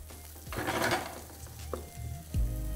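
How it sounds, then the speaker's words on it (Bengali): Carrot, beans, mushroom and onion are tossed with garlic in a pan on high flame. A soft sizzle runs underneath while a utensil scrapes and clinks against the pan in a few distinct strokes. The sound is close and fairly quiet. "এটাকে আপনাদের একদম হাই ফ্লেমে ভালো করে টস করে নিতে হবে গার্লিকের সাথে।"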